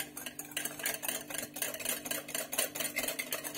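Cake batter for an apple cake being stirred by hand in a bowl just after oil is added, giving a steady run of soft scraping and sloshing strokes at close range with no talking.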